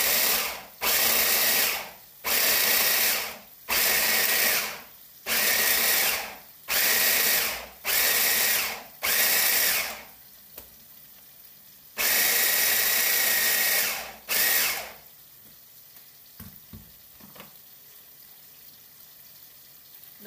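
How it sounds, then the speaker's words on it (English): An electric kitchen grinder chops carrot and pepper in a series of short, loud whirring bursts, about eight quick pulses then a longer run, followed by quiet handling clatter. "I start to grind carrot and pepper, but you don't need to grind it a lot."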